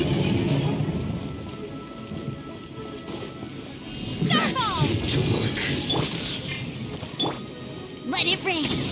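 Rain patters and thunder rumbles at moderate volume in the video game Genshin Impact, broken by several sharp swishing bursts and clinks, with voices briefly heard in between.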